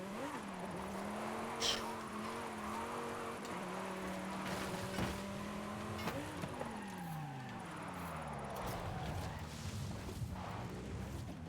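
A Lamborghini driven in the racing game Forza Horizon 5, its engine droning steadily, then revving and shifting pitch as it accelerates, with faint tyre noise underneath, moderately quiet and without talk.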